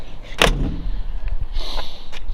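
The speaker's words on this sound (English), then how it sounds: "Doors shut nice." Door of a 1941 Ford hot-rod pickup with a 283 V8 shutting with one solid thud close by, followed by faint rattles and creaks.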